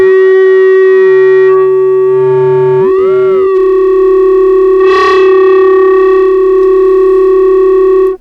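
A KORG Volca Modular synthesizer with its gate held open drones a loud, continuous tone, with pitch sweeping and wobbling early on before settling into a steady sustained note with a brief bright burst midway.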